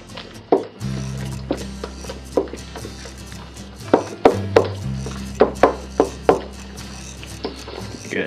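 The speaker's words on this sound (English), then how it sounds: "So, mix this in." Ingredients for grandma's homemade eggnog, with extra vanilla, are stirred in a bowl: irregular clinks, knocks and scrapes of the utensil against the bowl come in scattered bursts over a steady low hum.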